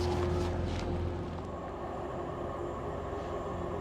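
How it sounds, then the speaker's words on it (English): A train rumbles past at moderate distance near Brough, Howden and York, a steady low roar with rhythmic clatter and a faint tonal whine, no voices. "There's a train on the up as well."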